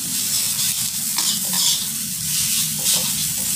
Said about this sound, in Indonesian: Terus diaduk dalam keadaan api besar.